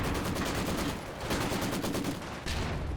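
Dense, sustained machine gun fire from a Company of Heroes 2 battle, loud and continuous with short bursts blending together and only a brief dip in intensity.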